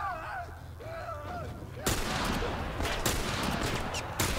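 A sudden burst of gunfire in The Last of Us video game breaks in after quiet ambient game noise, followed by sustained loud, noisy shots and crackling impacts at close range.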